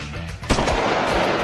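A gunshot fired from a handheld firearm rings out as a single sharp, loud blast midway through, followed by a sustained roar of echo or continued fire; no talking is heard.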